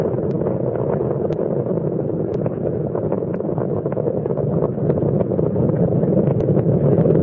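Space shuttle Columbia's main engines roar during launch from Kennedy Space Center, a steady, dense broadband rumble that holds at constant loudness throughout with no voices.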